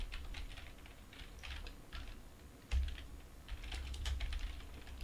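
Typing on the keyboard of an NEC PC-9821 computer, a run of fast, light key clicks with a few heavier thumps, steady and close but fairly quiet, with no one speaking.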